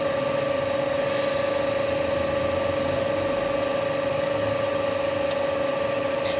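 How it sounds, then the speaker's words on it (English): A drill runs continuously while boring holes at punch marks in sheet metal, a loud, steady mechanical whine and hum with constant vibration, no pauses, and no voices. "At the punch marking we have to drill."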